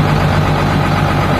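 A 2015 Buhler Versatile 305 tractor engine idles close by, a loud, steady low rumble that holds constant throughout with no voices.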